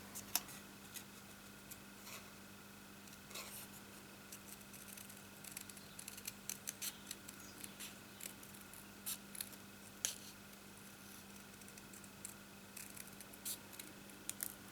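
Scissors snip through paper while making a card, a quiet, steady run of small crisp cuts and ticks close up over a low background hum, with no voices.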